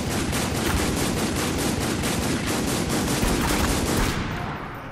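Spec Ops The Line multiplayer gunfire comes as loud, rapid automatic fire, a close, steady stream of shots lasting about four seconds before cutting off.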